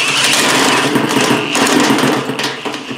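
An electric drill fitted with a metal shear attachment cuts through sheet metal, giving a steady, loud, buzzing mechanical whir with a rattling grind that runs continuously and close up.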